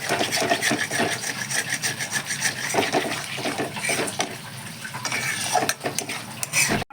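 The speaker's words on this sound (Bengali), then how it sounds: "ভালো করে এবার কিন্তু নাড়িয়ে চালিয়ে নেব" Pressure-cooked potatoes with chili powder are stirred in a pan, making a near, continuous scraping and rubbing of utensil against metal. The strokes come in an uneven rhythm and stop abruptly at the end, with no voices.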